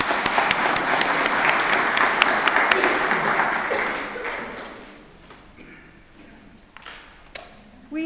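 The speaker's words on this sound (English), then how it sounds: "Let's one more round of applause for these ladies." Steady applause from an audience at a business meeting panel, loud and continuous with some sharp claps standing out, tapering off toward the end.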